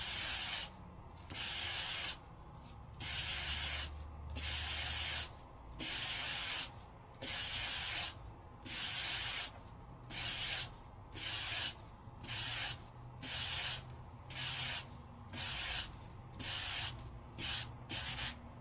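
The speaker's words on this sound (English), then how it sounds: "lightly, ever so gingerly, give it a little bit of a sand" Light sandpaper rubs across a die-cut paper piece in a regular back-and-forth rhythm, about a dozen close, soft scratchy strokes separated by brief pauses.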